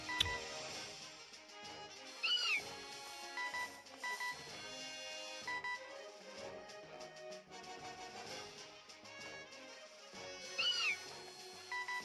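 A short, high, bending cat-like cry of Skitty from the video game Pokémon Omega Ruby rises twice over dense game music, once near the start and once near the end.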